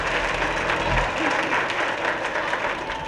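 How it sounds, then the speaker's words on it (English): A studio audience claps together through a television game show, a dense, even wash of applause that carries on to the end with little rise or fall. "your applause for number 3"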